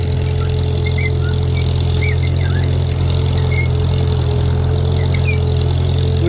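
Farmall M tractor pulling a disc harrow across a field, a steady loud engine drone with a constant low rumble throughout, close and unbroken, with no talk.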